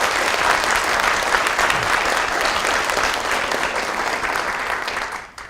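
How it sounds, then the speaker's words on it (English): A hall audience at a police department awards event applauds reserve police volunteers, a dense, steady burst of clapping that carries on evenly and then fades out quickly at the end. "let's give a round of applause to those volunteers"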